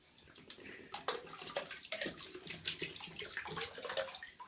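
Water splashes and sloshes continuously in a bathtub, with close, irregular bursts of movement through the water.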